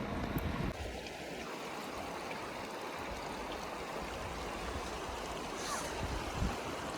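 A small mountain river near Leh rushes steadily, its broad, even flow heard up close as the main sound, with faint wind and a voice briefly over it.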